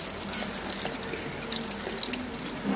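Water splashing and sloshing around a Sony Xperia Z phone as it is submerged, a continuous bright wash of liquid with scattered drips and small splashes, close and fairly loud.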